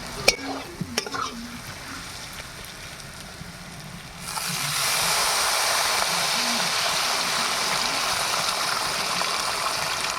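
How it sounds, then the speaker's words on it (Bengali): Water poured into a pan of potato and snakehead fish curry, a sudden loud rushing hiss that swells and holds steady after a few quiet clinks and scrapes. "এবার আমি পরিমাণ মতন জল দিয়ে দেবো।"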